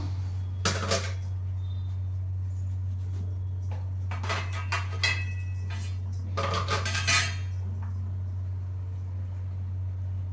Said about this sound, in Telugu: కొత్తిమీర కట్ చేసుకుందాం